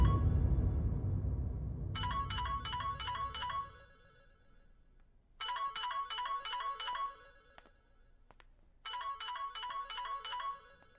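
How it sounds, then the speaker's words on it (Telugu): A mobile phone plays its ringtone, a bright electronic melody repeating in three separate bursts with pauses between them. A low rumbling background fades out during the first ring. "ఫోన్ ఎందుకు తీయు?"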